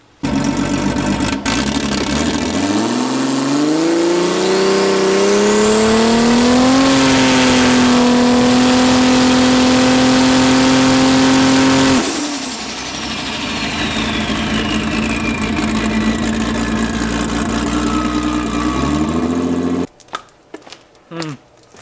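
A dirty drag car on a two-step launch control test, loaded on the torque converter with nitrous, climbs from idle to a loud held high rev. It eases off briefly, holds again, then cuts abruptly near the end.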